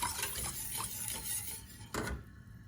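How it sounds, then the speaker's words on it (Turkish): Cream being stirred in a pot on the stove as it cooks and thickens for a no-bake layer cake, with steady close scraping and clinking of a utensil against the pot, a brief louder clatter near the end. "Şimdi şöyle karıştıra karıştıra yine kremamız koyulaşıncaya kadar pişireceğim."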